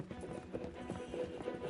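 Horse hooves clip-clop at a steady trotting rhythm in the video game Erica, mid-distance and fairly quiet, with dense low rumble and murmured voices mixed in.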